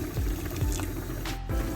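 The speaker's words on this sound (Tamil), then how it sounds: "கொஞ்சம் தண்ணி விடுவோம்." Water pours into a cooking pot for a dish made with onion, green chilli, garlic and tomato, a short, close splashing fill with a soft pause near the end.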